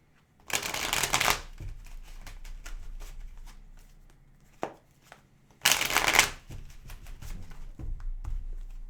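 Tarot cards being shuffled by hand, two loud riffling bursts near and up close, separated by softer card handling and light taps, no talking.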